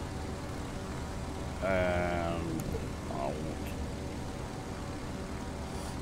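A small propeller airplane drones steadily in flight, a continuous even engine hum heard from inside, with a person speaking briefly over it.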